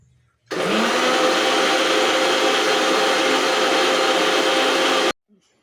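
Mixer grinder grinding grated coconut, green chillies, cumin and water, a loud steady whirring roar that starts abruptly, runs about four and a half seconds and cuts off.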